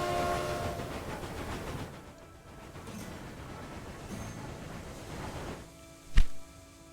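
A 10-wheeler steam train in the Railway Empire 2 game on a Santa Fe delivery run: a rumbling, clattering roll that fades down, then a sharp short whistle blast near the end.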